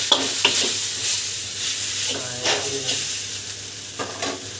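Spicy noodles are stirred in a hot pan, a steady sizzle broken by repeated scraping strokes at an uneven pace, close and with no voices.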